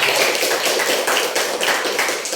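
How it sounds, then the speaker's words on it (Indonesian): Dense, steady clapping from a class of elementary pupils for a student, loud and continuous through the whole stretch with no voices over it. "Tepuk tangan buat si Habib."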